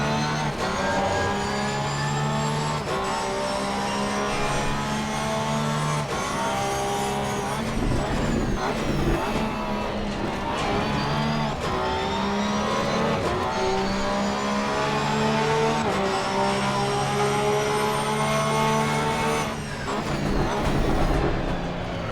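Race cars in Assetto Corsa Competizione at Mount Panorama scream through constant high engine revs, gear changes rising and falling as several cars battle closely, loud and continuous.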